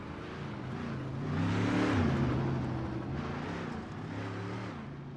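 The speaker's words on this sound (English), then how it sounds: "As they sit there idling on pit, and there goes Mikey Smith out on the track." UMP modified race cars in a sim racing game at Eldora idle and rev in the pits, a steady engine drone with one car accelerating out onto the track, swelling near the middle and then fading back.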